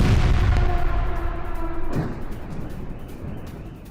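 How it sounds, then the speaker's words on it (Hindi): A deep, rumbling blast from a fuel storage tank hit in a drone attack rolls out and slowly fades, with a fainter thud partway through; distant and boomy, no voices. "हमले के बाद फ्यूल स्टोरेज टैंक में धमाका हुआ है।"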